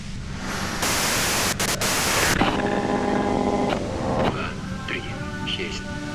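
Harsh broadband white noise static from the Disco Elysium video game fills the clip, steady and loud, with a few abrupt dropouts, then fades into lower hiss crossed by faint tonal hums and clicks.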